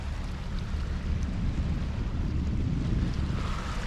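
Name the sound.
sailboat under sail with engine assist, wind and waves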